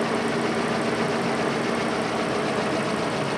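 A car engine with a cracked block runs steadily, giving a constant, close mechanical drone with a faint rhythmic knock underneath and no pauses.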